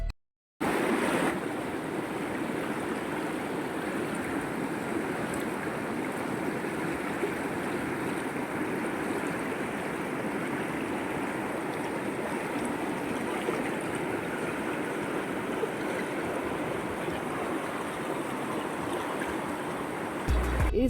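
A fast-flowing river rushes in a steady, loud, broadband wash heard nearby outdoors, continuous for about twenty seconds with some wind buffeting and no clear voices.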